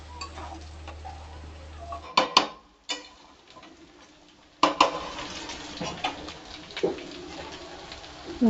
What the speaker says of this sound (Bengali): ভালো করে নাড়িয়ে দিলাম